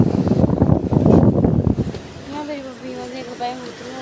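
Strong outdoor wind buffets and roars loudly for about two seconds, then drops to a softer rush while a voice speaks over it near the end.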